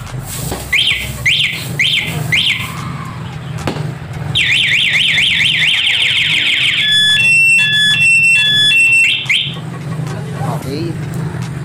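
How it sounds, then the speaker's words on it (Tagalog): An aftermarket alarm on a Yamaha motorcycle sounds loud and close, cycling through rising whoops, a continuous warbling siren and rapid stepped beeps, with a running engine rumbling underneath and brief talk between patterns. "Tapos, etong padlock sa ibabaw, ito yung alarm."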